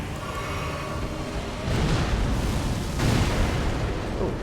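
An Elden Ring explosion hits as a loud rumbling burst over a dense, noisy game soundscape, and a second heavy blast follows about a second later.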